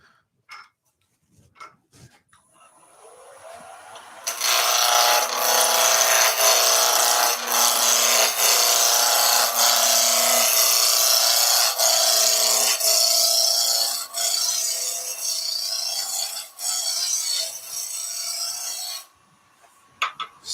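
Wood being roughed down on a woodturning lathe, a steady broadband scraping rasp of the gouge against the spinning blank that starts after a few quiet seconds, stays loud and continuous for about fifteen seconds, then stops.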